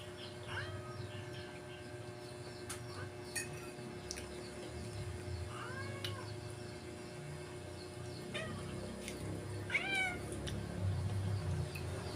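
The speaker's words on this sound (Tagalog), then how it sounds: "Aking pusa naghihintay na ng pagkain." A cat meows for food in a rural Philippine home, several short, close meows spaced out over a low steady background hum.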